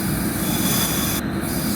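A passing MBTA commuter train in Train Sim World 2 rolls by close and loud, a steady heavy rumble with a faint squeal of wheels and no voices over it.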